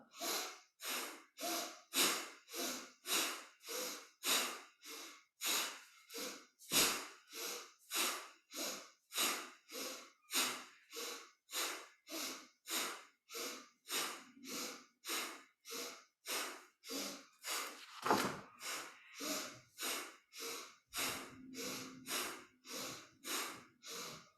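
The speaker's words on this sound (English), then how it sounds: "Breath of fire. Inhale up, exhale down." Rapid, rhythmic breath of fire in Kundalini yoga, about two sharp nasal inhale-exhale pulses per second repeating evenly and close to the microphone, with no talking.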